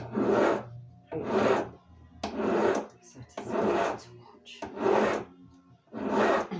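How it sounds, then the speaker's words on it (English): A hand file rasps across the thick metal shank of a ring in about seven slow, even strokes, each a close, gritty scrape separated by short pauses. "when you're filing, you need to keep on checking that you're not creating an uneven thickness because you're removing a lot of metal"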